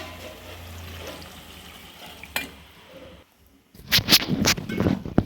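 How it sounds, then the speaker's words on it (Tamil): Water splashes into a pan of sautéed plantain, carrot and other vegetables for dalcha, a short burst of sloshing pours close by after a quieter stretch of low sizzling. "வேணுங்கிற அளவுக்கு தண்ணி ஊற்றி"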